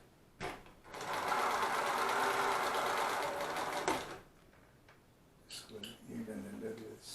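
A heavy duty cylindrical bed walking foot industrial zig zag sewing machine (NMD-2312D) runs in a steady, fast stitching whir for about three seconds, stops, then briefly starts again under faint sounds nearby.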